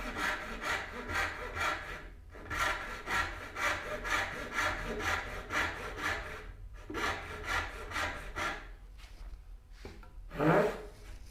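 Hand saw cutting wood for a rolling cabinet base, rasping in quick back-and-forth strokes with a few short pauses between runs. Close and fairly loud, with no talking.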